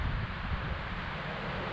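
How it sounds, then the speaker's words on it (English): Steady, loud wind buffeting the microphone with a low rumble and rustling, continuous throughout with no voices. "It is really windy."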